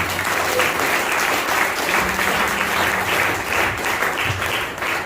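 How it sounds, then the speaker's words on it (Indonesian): Sustained audience applause for a visiting director at a community gathering, a thick, even roar of many hands clapping at close range that holds steady throughout with no speech over it. "Tepuk tangan untuk beliau."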